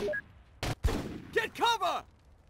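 Gunfire in Full Spectrum Warrior: Ten Hammer comes as a few sharp shots in a tactical military game, mixed with a short radio-style voice and whooshing effects, moderately loud.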